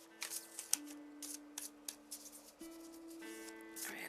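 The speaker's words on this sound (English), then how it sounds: "I'm going to do a quick shuffle again" A deck of tarot cards being shuffled quickly, with close, soft riffling and rubbing bursts in an irregular rhythm over a steady, quiet background tone.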